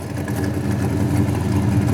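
A 1969 Chevrolet El Camino engine idles with a steady rough rumble and a faint hiss from a vacuum leak around worn throttle shaft bushings, running continuously at close range.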